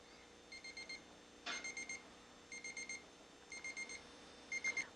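A kitchen timer goes off while beans boil for Greek bean soup: quiet, high electronic beeps in repeating bursts of four, each burst separated by a short pause.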